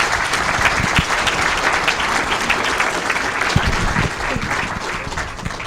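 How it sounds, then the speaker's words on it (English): A conference audience gives a panel a round of applause, a dense, even wash of clapping from a large room, loud and sustained. "let's have a round of applause for our panel"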